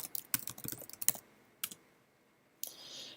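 A computer keyboard is being typed on up close: a rapid run of crisp key clicks, a pause, then a single isolated keystroke and one final louder click.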